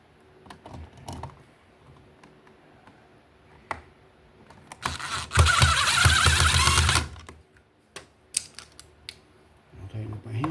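A power screwdriver tightens screws into a replacement electrical box, giving one clear whirring run of about two seconds among scattered clicks and handling knocks, all close by.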